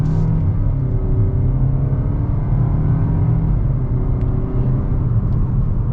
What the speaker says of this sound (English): We're gonna get our acceleration here at the Altima.